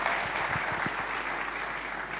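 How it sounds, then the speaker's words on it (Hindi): An audience at an Ideas of India event applauds the arrival of actor Aamir Khan, steady moderate clapping with a few sharper individual claps near the start, holding evenly throughout. "तालियां जरूर होनी चाहिए क्योंकि हमारे खास मेहमान आमिर खान"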